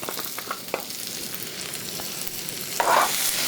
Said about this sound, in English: add the items that take longer to saute. Green peppers. We have some fresh carrots.